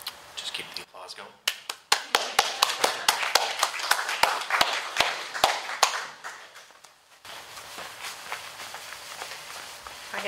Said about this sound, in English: Just keep the applause going